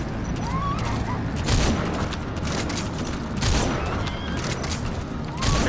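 Gunfire in the video game Metal Gear Solid V: bursts of shots and booming volleys roll out at intervals over a busy, noisy battle background.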